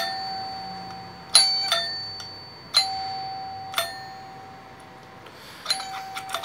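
A faulty doorbell chimes several times at uneven intervals, each sharp ding ringing out briefly, with a steady electronic whine in the background.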